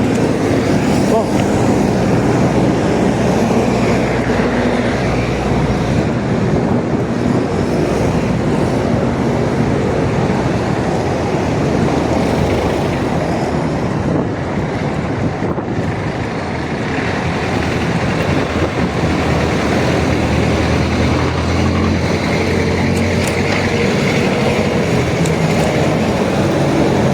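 A heavy rumbling roar of an MRT metro train passing close by in Metro Manila, steady and loud throughout, with faint voices underneath.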